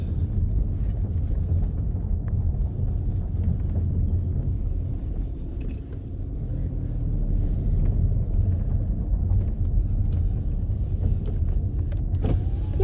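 Continuous low engine drone and road rumble from inside a car being driven, steady and fairly loud with a slight dip midway and no talk.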